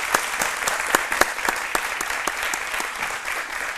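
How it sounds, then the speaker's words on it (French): Studio audience applauding a departing guest on a French-language midday TV show, a bright, full burst of clapping with sharp individual claps standing out, sustained and fairly loud. "On va le raccompagner avec des applaudissements."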